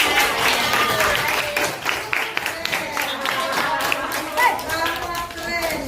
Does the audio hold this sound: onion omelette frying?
no